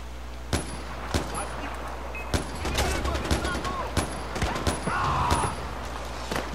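Sharp gunshots crack at irregular intervals in Far Cry 4, about a dozen bursts over a low constant hum, with game sound effects in between.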